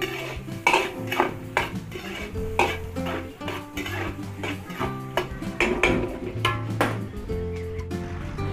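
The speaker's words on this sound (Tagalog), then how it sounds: "luto-luto lang po natin yung ating sibuyas at bawang" Onion and garlic are sautéed in a large pot for a big batch of Filipino cooking, with a metal spatula clanking and scraping against the pot in an irregular rhythm close by.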